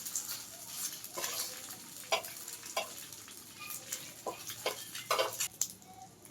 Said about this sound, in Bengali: মোমোগুলো হালকা করে ভেজে নেব, বেশি ভাজার দরকার নেই